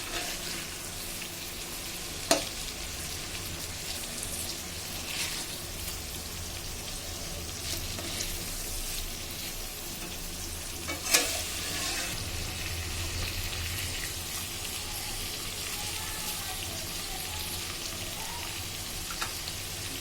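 Hilsa fish pieces frying steadily in a pan for mustard hilsa, a continuous soft sizzle with two brief sharp clicks as the fish is flipped.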